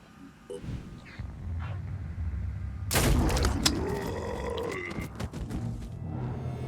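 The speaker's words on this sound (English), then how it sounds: "That is the sound of his head exploding." A sudden loud burst of crunching, splattering impact noise as a character's head explodes in the video game Phoenix Point, followed by wet debris and low rumble, after quieter background ambience.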